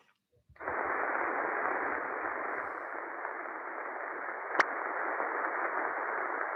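Shortwave radio receiver hiss fills the band as a steady, loud broadband static after a brief quiet start, with one sharp interference click midway and no voices.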